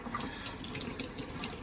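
Water runs steadily from a faucet in a house with a repiped domestic water line, a continuous splashing hiss into a sink, moderately quiet.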